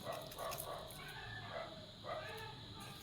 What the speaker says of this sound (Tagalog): Ang ingay ng aso sa labas.